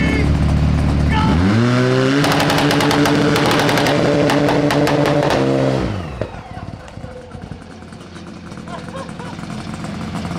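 An old two-stroke side-by-side engine revs hard and loud during a tug-of-war pull, its pitch climbing, holding high, then dropping away around the middle as the engine winds down, leaving rough idling and background rumble.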